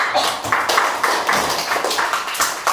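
A classroom of pupils claps hands for a classmate, with irregular, fairly close bursts of clapping and short gaps between them.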